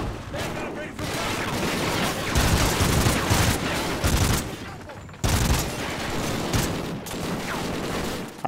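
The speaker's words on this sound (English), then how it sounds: "I'm taking fire over here!" Dense, continuous gunfire and explosions fill a Call of Duty Ghosts campaign battle, loud and chaotic with rapid bursts throughout, and shouting voices mixed in.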